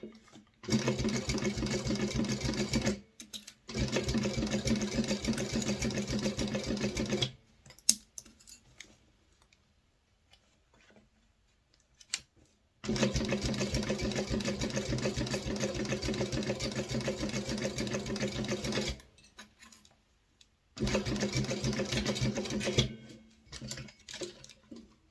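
A sewing machine top stitching and back stitching a minimalist wallet runs in three long bursts of steady, rapid needle chatter, separated by short pauses and a stretch of near silence.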